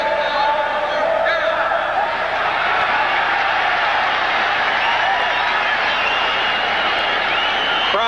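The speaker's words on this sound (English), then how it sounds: "Crowd looking to taunt Phillips," A large football stadium crowd at a 1980 Oilers versus Bengals game roars and jeers continuously at a player, a dense, sustained wall of distant voices with scattered applause and no clear individual speech.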